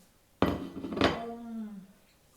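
Ceramic dishes clink twice in a kitchen cupboard as they are stacked, two sharp close knocks with a short ringing tail after the second, otherwise quiet.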